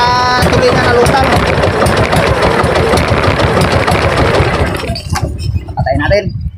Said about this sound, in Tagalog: maingay ang makina